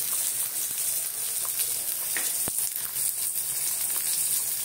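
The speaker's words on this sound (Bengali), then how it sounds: "দেখো এখানে কলাগুলোকে আমি ভাজছি।" Bananas frying in a pan, a steady close sizzle and hiss running throughout with a few scraping stir clicks, no voices.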